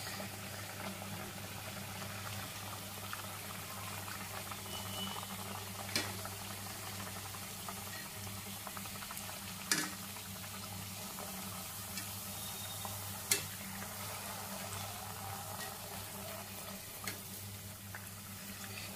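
Sajja boorelu, pearl millet sweets, frying and puffing in hot oil: a steady, even sizzle that continues throughout, with a few faint clicks and taps now and then and no talking.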